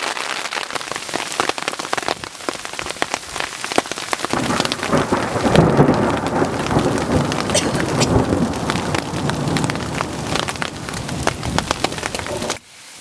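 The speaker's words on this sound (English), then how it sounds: "And just absolutely getting dumped on with hail." Hail and heavy rain pound a tent at about 11,000 feet on a mountain pass, with rolling thunder; a dense, loud, steady rattle of impacts runs the whole time and cuts off sharply at the end.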